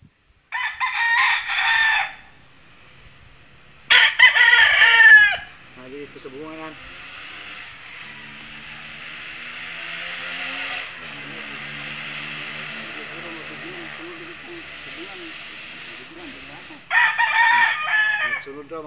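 Gamecocks crow loudly in bursts, three long crows spread over several seconds, with softer clucking and murmuring between them.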